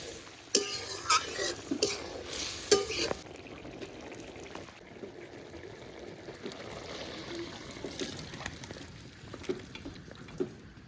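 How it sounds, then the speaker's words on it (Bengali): A bottle gourd and prawn curry with ground cumin is stirred in a pan: a few sharp utensil clinks and scrapes early on, then soft, quiet bubbling and mixing sounds. "যে জিরেটা বেটে রেখেছি সেই বাটা জিরেটা দিয়ে ভালো করে মিশিয়ে নামিয়ে নেব"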